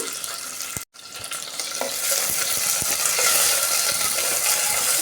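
Mustard seeds, onion pieces, curry leaves and garlic cloves hit hot oil for a taro-root stew tempering, giving a sharp drop-in hiss and then steady, loud frying sizzle with occasional spoon knocks.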